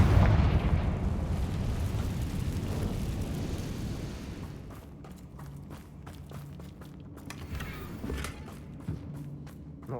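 A Confringo spell goes off in Hogwarts Legacy amid Ranrock loyalists, a loud booming blast with rumbling low debris that fades after a few seconds, followed by quieter scattered impacts and pops.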